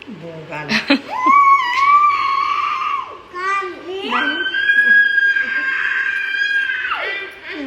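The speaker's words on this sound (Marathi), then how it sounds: "कानात नको ओरडू रे कानात ओरडू" A child lets out long, loud, high-pitched shouts into someone's ear at close range, two sustained yells with a brief break between them.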